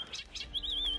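A bird chirps in the video game Assassin's Creed Chronicles: China, a thin wavering whistle sliding over soft game ambience and brief brighter tones.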